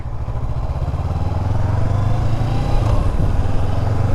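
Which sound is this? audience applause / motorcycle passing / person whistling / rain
motorcycle passing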